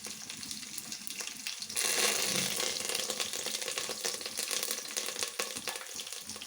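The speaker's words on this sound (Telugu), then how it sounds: "ఆ కరివేపాకు 2 రెమ్మలు వేసుకుంటున్నాను." Two sprigs of home-grown curry leaves hit hot oil for a sambar tempering, the sizzle surging loudly as they drop in, then crackling steadily and close, no talk.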